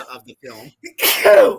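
A single loud, close sneeze bursts out right after a few words of speech in a home kitchen.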